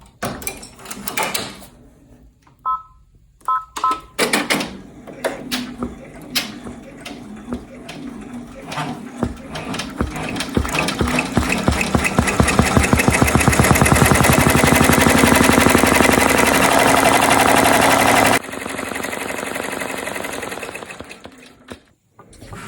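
An embroidery machine stitches a double-layered cocktail napkin in the hoop, starting with scattered clicks and knocks, then speeding into a loud, fast, continuous mechanical rattle that later drops to a steadier hum.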